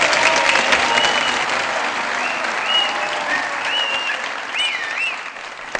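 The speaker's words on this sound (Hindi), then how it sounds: "बहुत सारी तालियां।" Sustained studio audience applause rises for a guest walking on at a Pakistani comedy talk show, dense and steady for several seconds with a faint voice over it.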